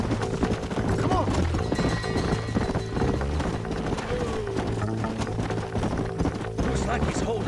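Horse hooves clip-clop in a steady trotting rhythm in the video game Red Dead Redemption, loud and close, set against a busy bed of music and ambient game sound.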